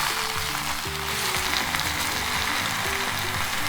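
Spinach wilts in a hot pan while being stirred, giving a steady, dense sizzle close by with no pauses, and a low background tone runs underneath.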